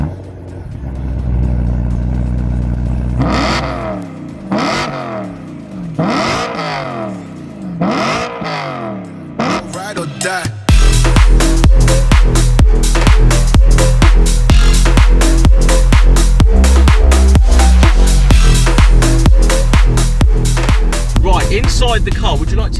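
A BMW E92 M3 engine revs repeatedly, rising and falling, then roars louder in a sustained run of rapid, aggressive revving, close by.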